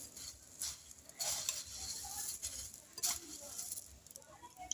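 Spiced jhal muri puffed rice being mixed in a bowl, a dry, uneven rustling and pattering with several louder crunchy bursts that come and go.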